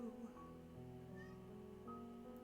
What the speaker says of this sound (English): I can hear my cat outside.